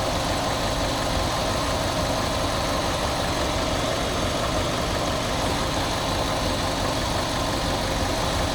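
A Fiat 500 engine idles with the bonnet open during starter motor repair work. The idle is a loud, close, steady mechanical drone with belt whir that runs unbroken throughout, and no one speaks.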